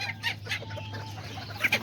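Kikiriki chickens, hens and roosters, cluck in short clipped bursts over a steady low hum, several quick nearby calls spaced through two seconds, with no talking.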